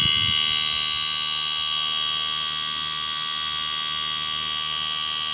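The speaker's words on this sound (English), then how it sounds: "Now the compressor is working speedier." A Panasonic split inverter air conditioner's compressor runs with a loud, steady electrical whine and hum that holds constant throughout, with no talk over it.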